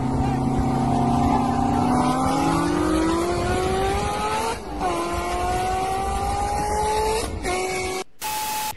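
A 600 horsepower McLaren supercar screams through its gears while racing, its loud engine pitch climbing steadily and dipping briefly at each shift.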